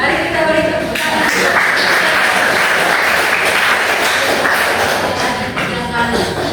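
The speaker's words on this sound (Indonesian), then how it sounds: "Mari kita beri tepuk tangan" A congregation at a church thanksgiving mass claps in a dense, sustained burst of applause that fills the room for several seconds, with a few thumps and a voice faintly mixed in.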